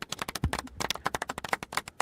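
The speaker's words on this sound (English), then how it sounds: "Golf clap." Light, polite golf-style clapping during a live cannabis-growing webcast, a quick string of small, fairly close claps at an even, casual pace with no talk.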